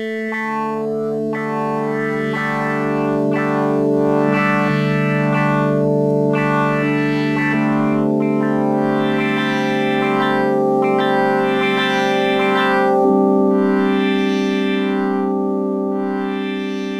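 A Microwave 1 synth plugin pad whose stereo field is swept by LFO modulation on the filter page, a sustained chorused, slightly distorted chord with shimmering, pulsing upper harmonics, changing chords every few seconds, alone and loud.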